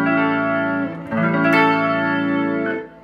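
Electric guitar licks played through a Leslie 147 rotating speaker cabinet, sustained harmonic chords with a swirling, chorus-like shimmer and some reverb, steady and loud with a brief dip near the middle, no talking.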